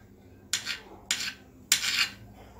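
Three crisp strokes chopping vegetables on a cutting board, evenly spaced about half a second apart, close and fairly quiet, with no talk.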